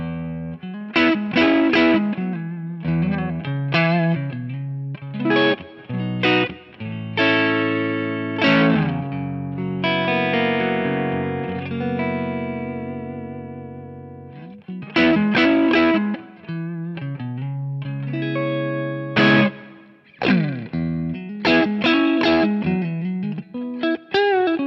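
Electric guitar through a Kingsley Minstrel pedal, set slightly overdriven, plays choppy chords and riffs with a held ringing chord in the middle, loud and close with no talking.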